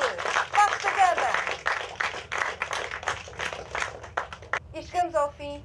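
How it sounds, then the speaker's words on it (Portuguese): Audience applause for team Vasco da Gama on a quiz show, steady clapping from a crowd with voices talking over it. "Mas quero palmas para ele."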